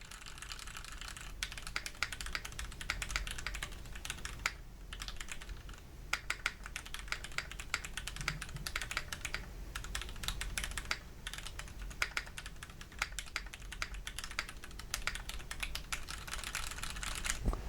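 Steady, rapid clacking of a Keychron Q6 mechanical keyboard being typed on unplugged, close and crisp, with irregular bursts of keystrokes and no voices.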